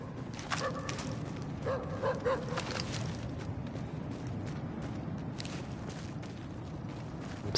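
Dogs bark in the video game The Division, a few short barks in the first seconds over steady game background noise, then fading into ambient sound.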